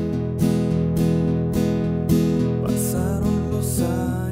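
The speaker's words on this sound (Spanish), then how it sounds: "ahora vamos con el rasgueo que vamos a utilizar en toda la canción." Acoustic guitar strummed in a steady rhythmic pattern over a held chord progression, even down-and-up strokes with accented beats, close and clear with no voice.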